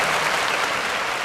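Steady, dense applause from an audience at a Tamil debate program for the Maattu Pongal festival, filling the whole moment loudly and evenly with no voices standing out.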